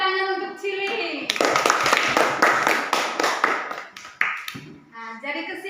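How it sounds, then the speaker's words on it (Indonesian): A classroom audience claps for a student: about three seconds of dense, rapid applause between stretches of someone speaking before and after. "tepuk tangan untuk Cili"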